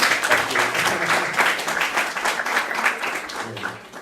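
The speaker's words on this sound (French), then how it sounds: "Mais on peut les applaudir même pour les accueillir." A church congregation applauds to welcome visiting pastors at an anniversary service, with steady, dense clapping that fills the room throughout and never breaks off.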